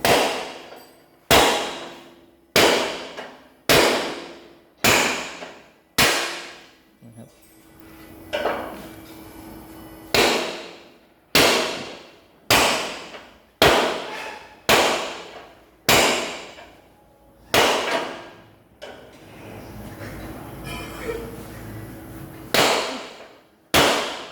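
A hammer drives a chisel to knock rivets out of a metal chassis, giving around eighteen loud, ringing metallic strikes in an uneven rhythm, each decaying quickly, with brief quieter gaps between groups of blows.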